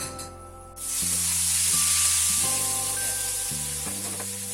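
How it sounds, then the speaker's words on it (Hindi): Hot tempering of garlic, curry leaves, cumin and fenugreek seeds poured into kadhi gives a sudden loud sizzle that surges and hisses steadily, under a sustained background hum and tonal drone. "बघार तैयार हो गया है। अब इसको हम कड़ी में डाल देते हैं।"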